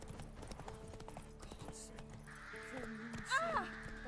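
Hooves of the horse Roach clip-clop at a quick galloping rhythm in The Witcher 3, a game set in Velen near Crossroads, fairly faint, with a short neigh near the end and a voice talking over it.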